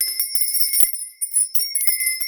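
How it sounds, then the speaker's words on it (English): A bright bell rings with a sustained, shimmering metallic tone and light tinkling strikes that repeat over a couple of seconds, clear and alone. "I didn't ring my bell, did I?"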